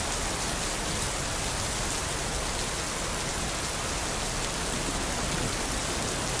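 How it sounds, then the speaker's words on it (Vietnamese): Steady rain falls outdoors in a dense, even hiss that fills the whole stretch without a break, with no voices over it. "sao anh không nói cho em biết là trời đang mưa"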